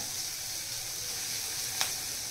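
A spinach dish with coriander fries in hot oil, giving a steady, fairly quiet sizzling hiss with one brief tap partway through.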